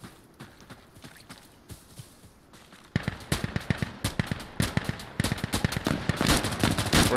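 Semi-automatic gunfire in the video game Insurgency Sandstorm sounds as rapid, sharp single shots, first muffled and sparse, then loud, close and steady in quick succession over a background of battle noise.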